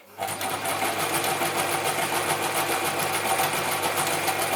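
Gritzner 1002 or Pfaff 307 sewing machine stitching, a loud, close, continuous mechanical whir with a fast rhythmic clatter that starts abruptly and runs steadily.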